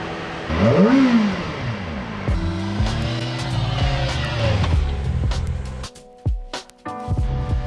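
A motorcycle accelerates at the start of a Sunday morning ride from Saitama toward Mount Fuji in Japan. The engine climbs in a loud rising rev, then drones steadily and settles before brief revs near the end.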